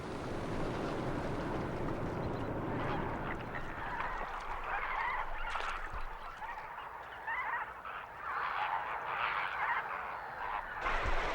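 A large flock of flamingos calling together in a harsh wild habitat, a dense, continuous honking clamor, loud and unbroken throughout.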